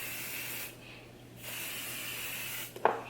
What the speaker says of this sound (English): I'm gonna go ahead and use another spray just to make my hair smell nice